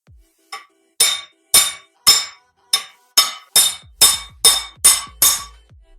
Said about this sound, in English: Because I don't have a hammer right now, I'm gonna use a crowbar.